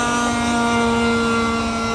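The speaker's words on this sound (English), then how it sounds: "That's an old airplane." An old airplane passes overhead with a loud, steady engine drone and sustained tonal hum that holds constant throughout, with no voices over it.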